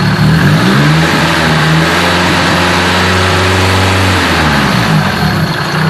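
A car engine runs under throttle with a fitted blow-off valve, producing a loud, continuous droning hum whose pitch rises and then settles back over a few seconds, with no talking.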